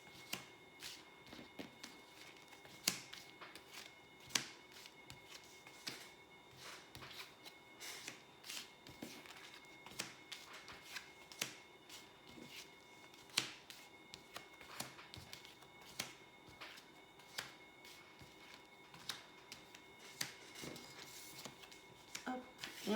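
Tarot cards being shuffled for a 15-card spread: soft, close riffles and sharp card slaps recur in irregular bursts over a quiet room.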